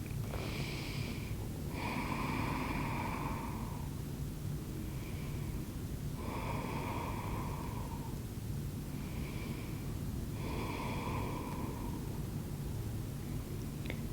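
Slow, deep breaths held in a yoga pose, each long exhale rising and fading in turn against a steady low background hum, with no talking.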